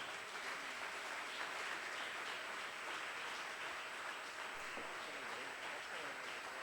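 A church congregation applauding during a sermon gives a faint, distant, continuous wash of clapping that holds steady for several seconds without a break.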